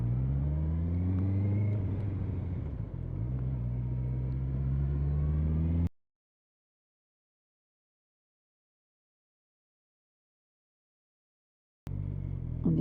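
A car engine hums and rumbles steadily while it slows through the gears on the approach to a junction. The sound cuts to silence for several seconds, then the engine returns briefly.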